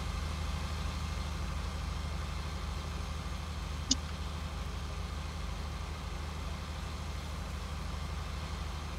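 A farm machine engine in Farming Simulator 19 drones at a steady low idle-like hum throughout, with one brief faint click partway through.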